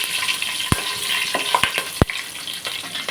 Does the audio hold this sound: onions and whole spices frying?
yes